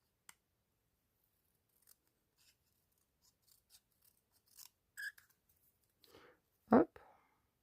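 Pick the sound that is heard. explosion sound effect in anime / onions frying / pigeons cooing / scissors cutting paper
scissors cutting paper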